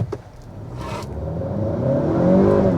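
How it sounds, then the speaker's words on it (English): A 2022 Honda Accord 2.0T with its 10-speed automatic launches hard from a stop with traction control off, its front tires scrabbling as the engine revs up and climbs steadily in pitch, close and loud. "let's do an acceleration run here very quickly here"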